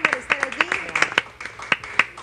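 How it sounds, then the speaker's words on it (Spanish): Studio audience applause greets the guests on a Peruvian TV talk show: a brisk, dense patter of hand claps lasting a couple of seconds, mixed with a host's voice. "Un aplauso para nuestros invitados el día de hoy."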